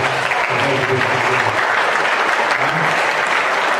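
Audience applause in a school hall during a campus study presentation, a steady dense wash of clapping held throughout, with a few voices murmuring beneath it early on.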